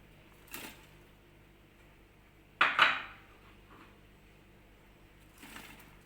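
Onions tipped into a pan of olive oil for Moroccan rfissa, landing with a sharp clatter and brief sizzle near the middle, framed by a few faint kitchen knocks before and after.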